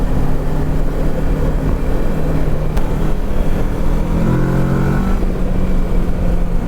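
A motorcycle engine on Islay, Scotland, drones steadily up close, then rises in pitch as the throttle is twisted, under constant wind-like rumble.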